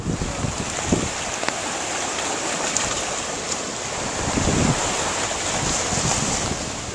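Steady rush of waves in a bay in Jersey City during Hurricane Sandy, about 2-foot swells, heavy with wind buffeting the microphone, a continuous roar with occasional louder surges.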